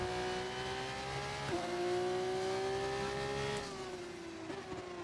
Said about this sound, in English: you can hear the tires squealing.